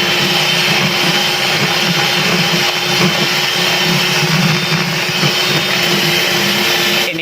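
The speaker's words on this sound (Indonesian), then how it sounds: "Ini kita kocok lagi dengan kecepatan yang tinggi." Electric mixer beating cake batter with eggs, sugar and baking powder at high speed, a loud, steady whirring drone that runs continuously without pause.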